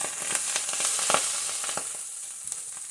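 Collard greens frying in a seasoned skillet, a steady hiss of sizzling oil with irregular small pops and crackles, close and fairly loud, and no voices.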